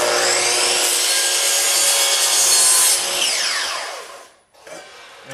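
A power saw slices through a piece of wooden display case molding at a miter, producing a loud, bright continuous whine that fades as the blade spins down, with a short pause before a final rattle.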